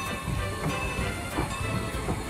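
A train pulls out with a full rake of coaches at Strasburg during a Christmas Santa Claus run, making a steady rumbling roll with rhythmic clanks and faint hiss nearby.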